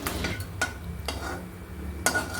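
Sliced onion, cashews and raisins frying in oil and ghee for a Malabar biryani, a steady sizzle broken by several sharp utensil scrapes and clinks against the pan, close and with no speech.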